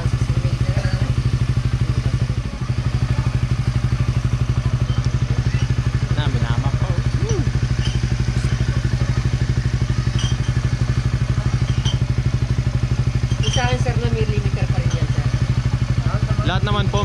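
An RS150 motorcycle engine is held at high revs near its limiter during ECU tuning, a loud, steady, buzzing drone throughout with faint voices over it.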